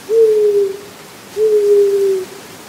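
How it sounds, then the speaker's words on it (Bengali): An owl hooting overhead in a rural Bengal night scene, two long, clear, steady hoots, close and loud, separated by a short pause of quiet. "মাথার উপরে একটা পেঁচা ডেকে উঠল"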